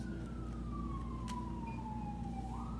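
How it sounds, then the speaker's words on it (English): Emergency vehicle sirens sound outdoors over a constant low traffic rumble, with a wailing tone that slowly falls in pitch and then starts to rise again. "I feel like I'm getting people's attention with these sirens out here"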